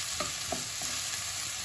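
Garlic cloves fry with onions in a pan for ratatouille, giving a steady, soft sizzle with a few faint stirring scrapes near the start and no voices.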